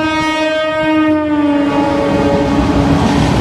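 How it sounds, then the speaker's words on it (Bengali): A train rumbles loudly into a station with a sustained, blaring horn over the steady roll of the wheels. "দেখতেই পেয়েছেন ট্রেনটা ঢুকছে"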